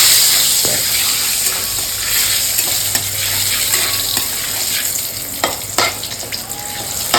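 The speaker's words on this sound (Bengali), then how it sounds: "আর এই পাশে উস্তা ভাজা বসাই দিচ্ছি।" Sliced bitter gourd fries in a pan with a loud, continuous sizzle, broken by occasional stirring scrapes and clinks that grow more frequent toward the end.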